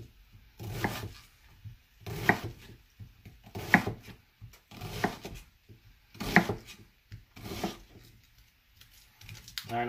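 A knife mincing food into small cubes on a board, with rhythmic clusters of quick chopping taps repeating every second or so, close and moderately loud in a quiet home kitchen.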